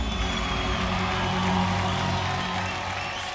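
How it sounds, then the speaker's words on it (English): An event crowd in Mumbai gives a round of applause: a continuous, fairly distant wash of clapping with some cheering and whoops, with no voices over it. "A huge round of applause,"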